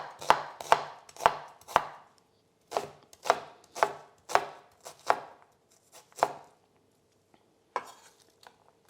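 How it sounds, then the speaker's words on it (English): A knife roughly chops jalapenos on a cutting board in quick bursts of sharp, close knocks, four or five in a row, pausing, then resuming more sparsely. "roughly chopping these."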